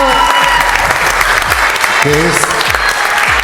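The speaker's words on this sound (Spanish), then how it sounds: "les voy a pedir que le den un fuerte aplauso a nuestra imponente y dominante presidenta de la JMI" Audience applause welcoming the JMI president, dense loud clapping throughout with a voice speaking over it and a steady low hum beneath.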